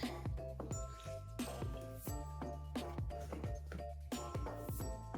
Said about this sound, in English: Okay, let's water this bad boy.